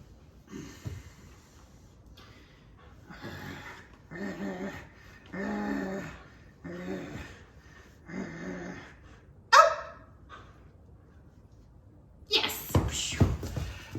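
A puppy playing tug, with snorting, panting and short growly yips in repeated bursts, and someone talking over and between them.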